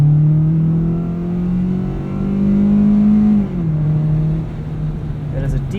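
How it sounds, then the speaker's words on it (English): Engine of a 2018 Kia Rio EX sedan with automatic transmission accelerating from inside the cabin, a steady droning tone rising in pitch through gear changes, loud and close. "I found myself pretty surprised by the power from the engine."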